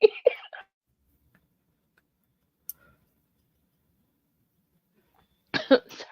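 A short burst of coughing opens, a faint click follows in near silence, and another pair of coughs closes it.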